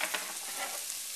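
Chopped vegetables and garlic sweat in a hot pan, a soft, continuous fine sizzle with faint crackles, quiet and close with no talk.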